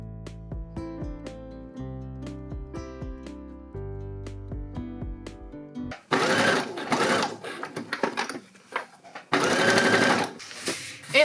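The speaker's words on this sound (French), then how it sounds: "je vais venir coudre en cercle à 1 cm du bord" A sewing machine stitches a circular seam around a parka sleeve lining, its rapid even needle hum running steadily, pausing briefly, then giving way to louder rustling fabric handling.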